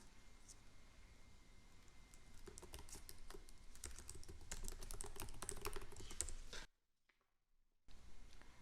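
Quiet, continuous typing on a computer keyboard, with a fast patter of soft key clicks over a faint room hiss, then a brief pause near the end, with no voices.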